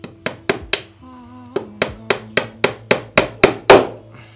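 Nails hammered into wooden planks while building a small Japanese-style temple for quail: a close, sharp series of about a dozen wooden knocks at a steady pace, with a short pause early on and no talking.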